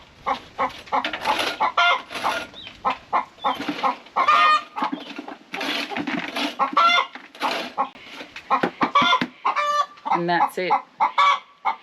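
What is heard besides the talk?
chickens clucking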